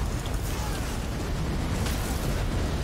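Bomb explosions during a Gryphon Heart raid in an online game: a dense, roaring wall of blast noise and crackling debris that fills the whole moment at high volume.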